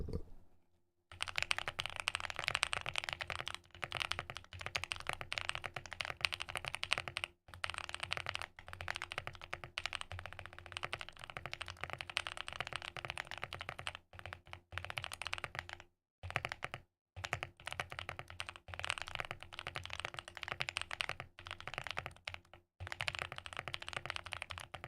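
Mechanical keyboard typing on a QwertyKeys QK75, with a fast, steady stream of close, crisp key clacks and a few brief pauses, heard alone with no talking.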